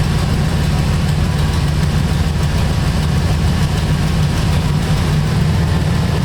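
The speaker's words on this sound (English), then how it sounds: "I just heard the engine change tone." A Chevy 2500HD pickup truck engine with a running fault idles steadily up close, a constant low rumbling drone with slight vibration and no other sounds.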